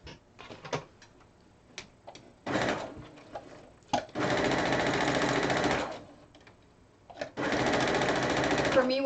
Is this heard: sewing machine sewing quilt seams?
yes